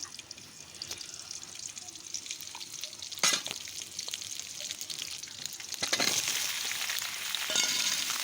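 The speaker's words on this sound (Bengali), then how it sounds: "আমি উনানে কড়াই বসিয়ে দিলাম দিয়ে দিলাম পরিমাণ মতো তেল দিয়ে দিলাম পেঁয়াজ কাঁচা লঙ্কা" Onion and green chilies fry in oil in a wok over a village stove, giving a soft, steady sizzle with a few sharper crackles and clinks.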